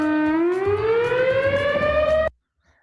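An old civil defense warning siren winds upward in pitch with a loud, steady wail, then cuts off abruptly into silence.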